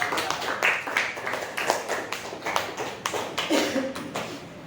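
A small class claps for a presenter in a classroom, producing quiet, uneven hand claps from a modest group that continue irregularly for a few seconds.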